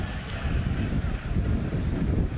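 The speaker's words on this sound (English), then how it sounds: "it is really, really windy up here" Strong wind buffets the microphone high up at a football stadium, producing a loud, continuous low roar with no pauses and no voices.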